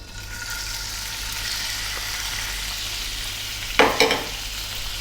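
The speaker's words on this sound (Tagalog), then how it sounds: "Ang unahin po natin, pa-fry natin yung ating pork belly." Pork belly fries in hot oil in a frying pan, giving a steady, even sizzle throughout, with a brief clatter of stirring near the end.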